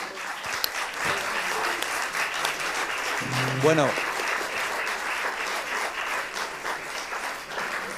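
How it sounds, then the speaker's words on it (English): An audience gives a round of applause for three speakers at a conference session on the EU and the invasion of Ukraine, a steady, moderately distant clapping that carries on for several seconds with a brief voiced sound partway through. "I would ask to do a round of applause for our three speakers"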